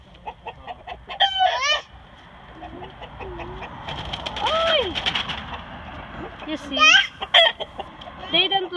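A rooster calls several times with strained, rising crows amid clucking hens in a chicken coop, with faint background chatter, loud and nearby.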